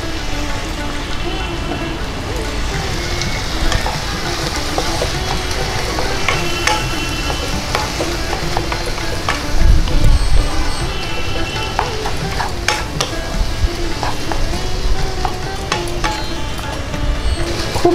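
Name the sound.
stirring and frying chicken keema with ground spices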